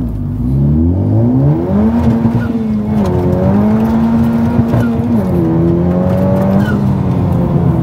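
A new Honda Civic Type R with a Hondata fuel system launches hard from a standstill, its engine loud and close as it climbs steadily through the revs with shifts and brief dips, sustained for several seconds.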